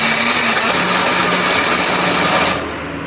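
A kitchen blender grinds Indonesian spice paste (bumbu) with a little water or oil, a steady loud motor whir running continuously and then dropping in level near the end as the grinding eases off.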